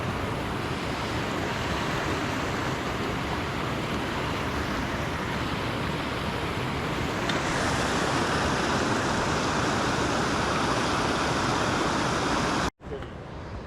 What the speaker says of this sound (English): another beautiful waterfall and a pool going this way